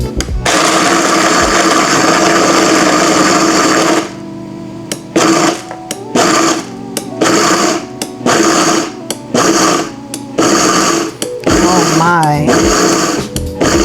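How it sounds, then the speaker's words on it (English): Loud, steady whir of a Vitamix blender running for several seconds, then pulsing in repeated short bursts with brief quiet gaps, blending cheesecake ingredients in a home kitchen. "this Vitamix is amazing"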